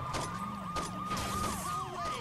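A wailing ambulance siren in the video game Saints Row 2 repeatedly sweeps up and down, moderately quiet under a steady engine-like drone, with no voices.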